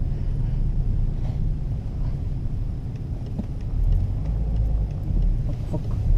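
Low, steady rumble of a BMW E60 5 Series 177 hp diesel car cruising at night, heard from inside the cabin as a constant engine and road drone with faint ticks above.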